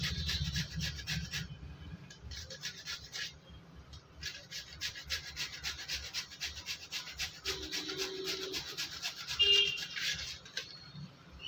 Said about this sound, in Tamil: இந்த மாதிரி கேரட் திருவுதில் திருவி எடுத்துடலாம்